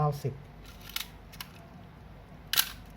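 A Nikon EM film camera at the M90 shutter speed gives a few soft mechanical clicks and a sharper, louder snap near the end, close up, with a brief voice at the start.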